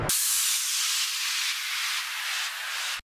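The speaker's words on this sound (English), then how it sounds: "Basic downlifters." Downlifter sound effect for an electronic dance track: a loud, bright, airy noise sweep that holds steady for about three seconds, gradually thinning at the top, then cuts off abruptly.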